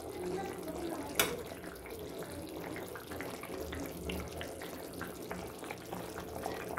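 Boal fish curry with potato and cauliflower simmers under a lid, giving a steady, faint bubbling hiss with one brief sharp clink near the start.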